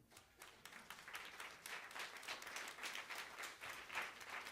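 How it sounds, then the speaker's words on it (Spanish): A church congregation claps steadily together, the applause sustained and moderately distant throughout. "Vamos a dar un aplauso al Señor."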